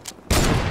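A heavy sniper rifle fires in the Fortnite video game with one loud, sudden blast that rings out and sustains briefly after a quiet moment.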